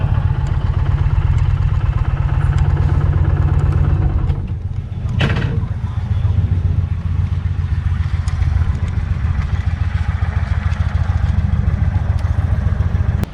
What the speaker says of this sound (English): This is definitely a high performance motor.